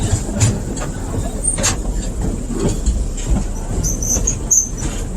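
A tourist train rolls along its track in a continuous loud rumble of wheels and carriages, with faint high squeals and rattles over the steady low drone.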